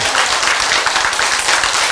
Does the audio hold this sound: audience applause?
yes